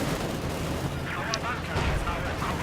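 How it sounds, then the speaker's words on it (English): A tank and an anti-tank gun firing in Company of Heroes 2, with dense booming shots and rumbling impacts packed together over a noisy battlefield and partly under a talking voice. "my Panzer IV is going to start pounding them"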